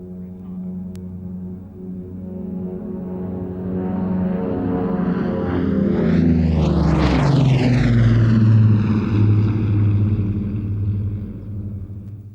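An Avro Shackleton with Rolls-Royce Griffon piston engines flies past at the Mildenhall Air Fete, a loud, throbbing propeller drone whose pitch swoops sharply downward as it passes close overhead, then rumbles steadily away.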